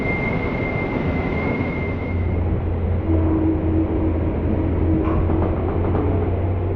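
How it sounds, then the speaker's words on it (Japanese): A train enters a tunnel on the Seibu Chichibu Line as another passes, pushing trapped air out between the walls and cars in a continuous loud roar with a low drone and a steady whine. "2つの電車によって押しつぶされたトンネル内の空気が、トンネルの壁と電車の隙間から音を立てながら勢いよく流"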